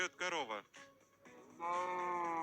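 A video game character imitates a cow with a drawn-out, bleating moo-like call. Several short voiced bursts are followed by a longer sustained tone, close and loud.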